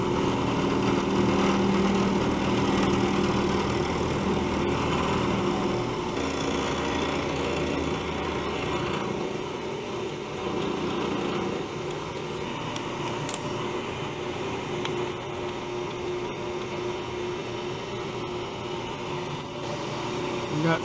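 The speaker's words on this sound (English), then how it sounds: "First step is go to the mill and cut a hex like that." A milling machine cutting a hex on a nut held on a rotary table in a motorcycle workshop, giving a continuous loud mechanical hum and whir that shifts in tone partway through.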